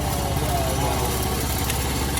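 A rice transplanter's engine idles with its hydraulic system, a steady close mechanical drone with a regular low pulse, loud and unbroken throughout.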